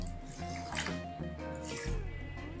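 Water runs and splashes steadily into a pan holding sugar for a couple of seconds, with a low hum in the background.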